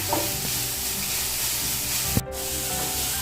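Food frying in a pan while being stirred, a continuous sizzle with scraping strokes and a sharp clack near the end, close up and with no voices.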